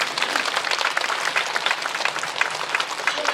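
A church congregation at a Korean prayer service breaks into steady applause, a dense, continuous wash of many hands clapping together at moderate volume.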